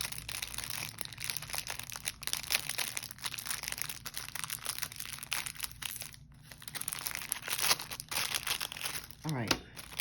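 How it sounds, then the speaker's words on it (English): Plastic packaging around a fountain pen converter for a Pilot Explorer pen crinkles and crackles as it is wrestled open by hand, near and continuous with uneven bursts, a voice speaking over it. "Just trying to fight now with how to open up this converter."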